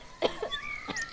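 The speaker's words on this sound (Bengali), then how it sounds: "ঢং না গো মা, কাশি হইছে।" A young woman coughs in a Bangla village drama scene: three short, close bursts in quick succession, with faint birdsong in the background.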